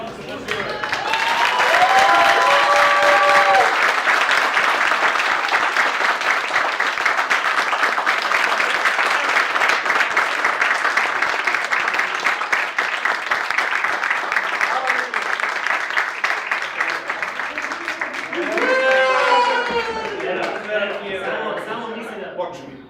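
Audience applause builds into a long, steady wave of many hands clapping, with a voice heard briefly at the start and again near the end as the clapping thins.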